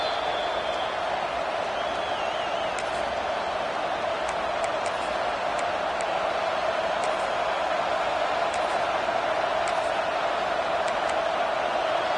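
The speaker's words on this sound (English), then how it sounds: "This crowd going to try to make life miserable for these guys." A football stadium crowd roars as a steady, dense wall of noise throughout, with faint whistles and shouts poking through the constant hum.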